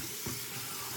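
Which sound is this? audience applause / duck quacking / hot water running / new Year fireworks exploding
hot water running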